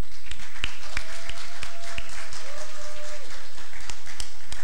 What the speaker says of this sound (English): those guys deserve a round of applause